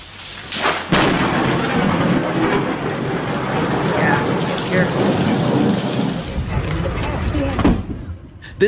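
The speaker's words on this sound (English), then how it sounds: "filming while driving in a storm, and lightning literally struck a pillar right next to him" Heavy rain pours steadily during a thunderstorm while driving, loud and close, with a sharp thunderclap near the start and another crack near the end.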